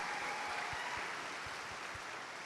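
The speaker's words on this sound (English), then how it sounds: "let's give another round of applause to this guy" Steady applause from a live audience at an event in Montreal fills the room evenly, with a few low thumps scattered through it, and no voices are heard.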